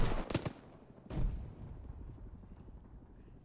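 Video game combat with a grenade and gunfire: a quick cluster of sharp close shots, then a heavier booming blast that fades into a low, rumbling tail.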